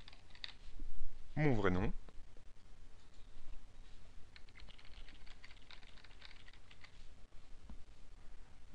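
Fast typing on a computer keyboard during an account sign-up, a quick flurry of clicky keystrokes heard close and quiet beneath someone speaking French.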